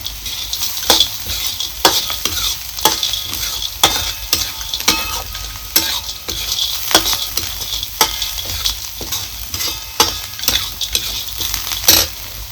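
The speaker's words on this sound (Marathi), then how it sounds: "आता आपल्याला ही सांडगं परतून घ्यायचं चांगलं" Sandage sautéing in oil with onion-garlic masala, a steady sizzle broken by repeated sharp scrapes and knocks of a spoon against the pan, close and fairly loud.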